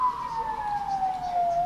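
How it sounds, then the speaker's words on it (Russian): An ambulance siren passes outside an open window over traffic, a steady wailing tone that slowly falls in pitch, clear and moderately loud. "Скорая или что? Скорая."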